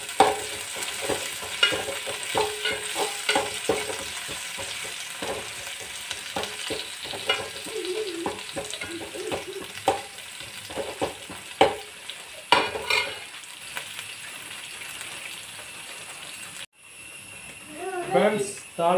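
Curry leaves sizzle and crackle in hot oil for tempering a rice-flour upma, with steady frying hiss, spatters and stirring clatter throughout, while a voice talks over it near the end.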